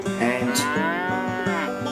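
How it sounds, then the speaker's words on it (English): Farm cattle moo loudly and close, several long harmonic calls overlapping in quick succession with no talking. "sounds like those cows need to be milked"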